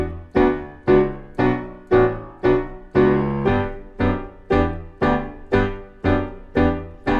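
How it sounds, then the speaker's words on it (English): Low piano bass line for a song, a steady run of about eleven evenly spaced, punchy notes with ringing sustain, played solo and fairly loud. "there's a really cool bass line happening. It sounds like this."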